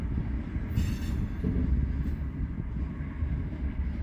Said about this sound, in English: they still got a few Burlington Northern cars